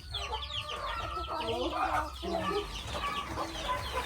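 Chickens cluck and chatter close by in a busy, continuous jumble of overlapping calls, with a low hum of background noise throughout.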